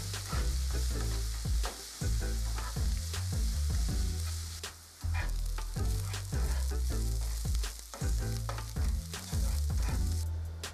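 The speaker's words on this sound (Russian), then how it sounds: "И обжарю его на сковороде с добавлением небольшого количества масла." Food fries in a pan with a little oil, a continuous crackling sizzle broken by repeated stirring scrapes and clatters, close and fairly loud with no talk.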